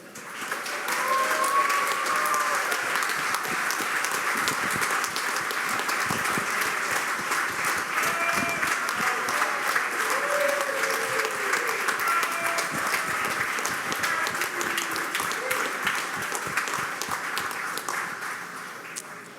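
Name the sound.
audience applause for world champion Magnus Carlsen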